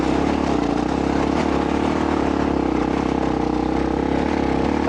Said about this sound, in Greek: Τραβάει τουλάχιστον το μηχανάκι.